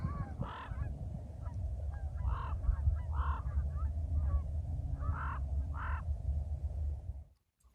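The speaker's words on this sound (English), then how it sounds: "Oh, and the Canadian geese are coming back." Canada geese honk in scattered bursts of two-note calls, moderately distant, over a low rumbling background of wind or traffic that cuts off abruptly.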